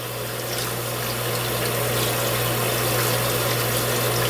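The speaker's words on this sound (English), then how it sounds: "You don't want water splashing everywhere, just enough to get your hands wet" A tap runs steadily for handwashing, giving a continuous even rush of water with a low hum beneath it, close and moderately loud with no talking.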